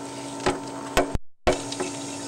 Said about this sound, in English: I've got some water running now via a hose in the clean-out